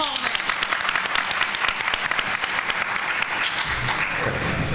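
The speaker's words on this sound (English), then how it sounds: "Y'all give a round of applause" Audience at a forum on violence and gun control gives a loud round of applause, dense sharp claps close by, with a voice coming in near the end.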